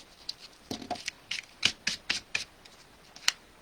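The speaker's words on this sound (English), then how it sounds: "you can just use a regular eraser and it'll erase the glue off" A regular eraser rubs glue off a handmade disco birthday shaker card in a series of about nine short, close, scratchy strokes with brief pauses between them.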